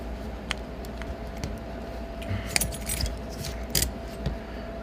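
Keys on a cable bike lock jangle and clink in short bursts over a steady low hum, with a couple of brighter metallic rattles standing out near the close.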